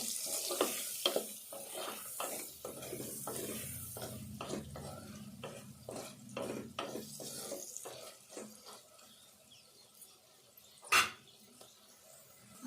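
Spices frying in a pan for an alasanda (black-eyed pea) and tomato curry, with a run of close, rhythmic spoon scrapes and stirs over a soft sizzle, settling toward quieter sizzling and one sharp clink near the end.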